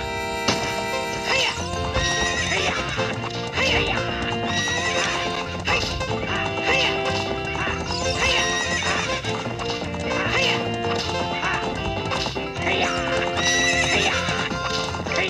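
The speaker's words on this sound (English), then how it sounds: "One lap around the court with the horse." Horse galloping and neighing in Zelda Ocarina of Time during a race around a ranch track, rapid rhythmic hoof clip-clops with repeated whinnies over game music, while a player talks over it.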